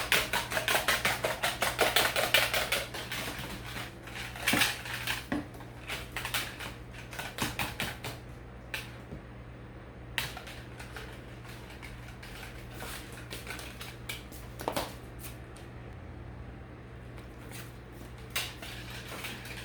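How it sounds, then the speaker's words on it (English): Pasture-raised eggs being mixed by hand in a bowl, a steady series of light clicking and tapping strikes of utensil against the bowl, quiet and close, with no speech. "So I'm mixing up nice, beautiful pasture-raised, yellow, golden eggs."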